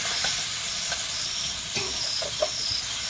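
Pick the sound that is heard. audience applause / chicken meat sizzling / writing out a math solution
chicken meat sizzling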